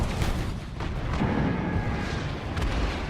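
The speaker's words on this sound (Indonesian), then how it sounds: "Meriam dari Angkatan Laut yang menghujani medan perang dalam melindungi tentara Amerika" Naval artillery pounds a battlefield in a war film, a dense continuous rumble of distant cannon fire and booms with a couple of sharper blasts, loud and sustained without speech.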